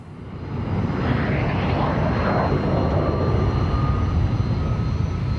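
Sustained roar of a Gloster Meteor jet flying past at the Duxford airshow, loud and broadband with a slowly shifting pitch as it passes, steady throughout with no speech.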